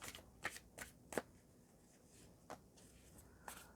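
Tarot cards are drawn and set down in a quiet room, with soft slaps and brushing swipes arriving one by one at uneven intervals, close and faint.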